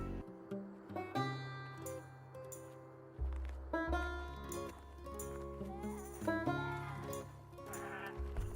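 Sheep in a 3D animation, two groups trying to get at each other, bleat repeatedly over a continuous musical score, several overlapping calls rising and falling throughout at a moderate loudness.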